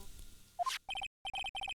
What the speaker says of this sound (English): Hey Nick, your cell phone's ringing.